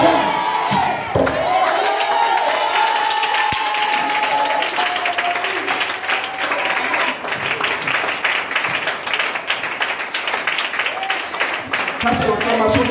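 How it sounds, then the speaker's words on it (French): A church congregation cheers and shouts in a loud, sustained roar of crowd voices with scattered clapping, while a preacher's voice rises over the din. "Ça c'est l'acclamation des vainqueurs, ça."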